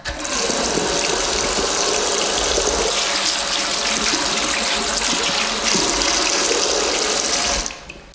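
Tap water runs steadily from a faucet in a loud, close continuous rush that holds for about seven and a half seconds before cutting off abruptly, with no speech.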